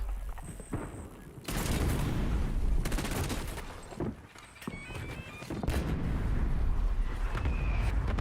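LDBR strike in Call of Duty Warzone: a sudden loud barrage of booming explosions rumbles and rolls on for several seconds, easing briefly before another heavy wave of blasts builds again.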